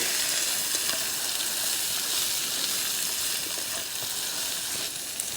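Potatoes with onions and peppers fry over charcoal at a campsite, giving a steady, close sizzle and hiss that holds evenly throughout with no voices.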